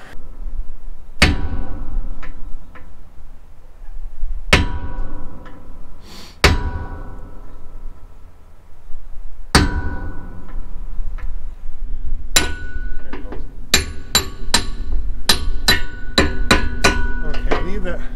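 Sharp metallic hammer blows on a roll pin in a rod weeder, struck singly at first with long gaps, then a fast run of ringing strikes near the end, close and loud with a steady low background.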